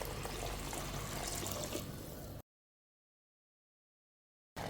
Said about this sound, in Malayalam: ആ വെള്ളമാണ് ഒഴിച്ചു കൊടുക്കുന്നത്.